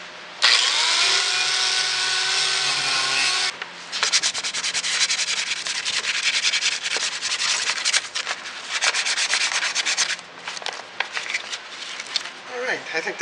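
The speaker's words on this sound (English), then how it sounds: "I'm just going to sand this up now and paint it." Hand sanding a repaired garden hoe: a dense, steady rubbing hiss for a few seconds, then choppier back-and-forth scraping strokes that continue close and loud to the end, with no talk over it.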